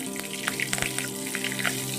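Green chili hits hot oil left over from frying Bhola fish, giving a close, steady crackling sizzle with scattered pops and spits throughout.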